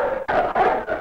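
A dog in a 1950 TV western barks three or four times in quick succession, close and fairly loud, each bark short and slightly whimpering.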